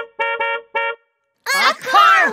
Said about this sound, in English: A car horn!